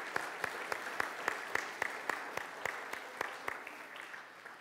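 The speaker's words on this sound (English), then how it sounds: "let's clap for the unsung heroes" Sparse, quiet clapping from an audience at a church celebration service, a few hands keeping a steady, even beat of distinct claps.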